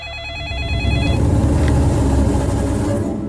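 A telephone rings with a repeating electronic trill in a Kannada movie scene, then broad rumbling noise takes over and masks it.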